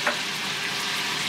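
Garlic sizzles and fries steadily in a hot pan while fajitas cook, a continuous close, even crackle with no voices.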